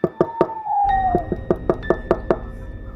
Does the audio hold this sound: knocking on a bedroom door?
yes